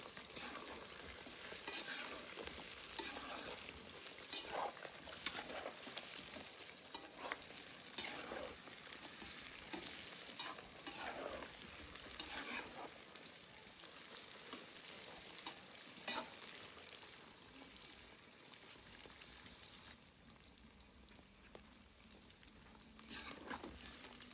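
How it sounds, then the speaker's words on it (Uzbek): Meat fries in vegetable oil in a kazan over an open campfire outdoors, with a continuous loud sizzle and repeated scraping stirs throughout. "Go'shtimizni 1-2 aylantirib qovurib olganimizdan so'ng"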